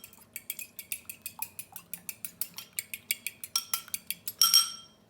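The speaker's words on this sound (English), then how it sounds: "We're just going to use an egg white, so 1 egg white, and we're going to lightly beat it" A single egg white is lightly beaten with a utensil in a bowl, giving a quick, steady series of close clinking taps that speed up slightly toward the end.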